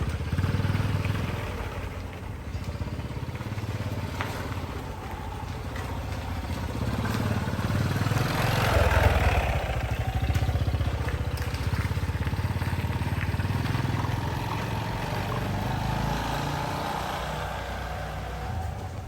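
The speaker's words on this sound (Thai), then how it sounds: "เดี๋ยวเราจะลองขับขี่ในพื้นที่ทางยาวบ้างนะครับ" A garden vehicle's engine drones steadily and close while it rides along a long, flat, smooth road, with some clatter and rising and easing throttle and no talking.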